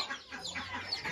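Chickens cluck softly and repeatedly in a farmyard, a few overlapping calls close by but fairly faint, with no talking.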